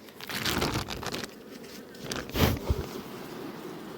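Honey bees buzz around an opened hive where few bees remain in the upper box, a fairly faint, continuous drone with a couple of louder close passes near the middle.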